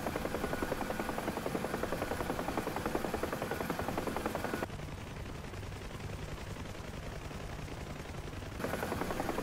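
Damaged Bell UH-1 Huey helicopter in the DCS flight simulator flying with its tail rotor shot out; a steady, loud rotor and turbine drone runs throughout, dipping in level and brightness midway before returning.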